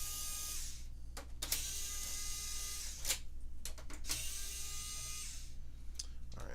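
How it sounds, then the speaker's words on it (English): Screws come out of a PS5 console during a teardown of a unit with no power, heard as a steady electric screwdriver whine broken by several short clicks and clatters under a constant hum. "let's go ahead and get all the screws out of this beast"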